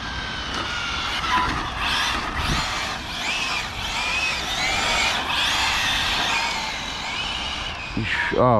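Arrma Felony 6s RC car driving fast, its electric motor whining up and down in pitched sweeps, close and fairly loud, then braking hard near the end, with a voice talking.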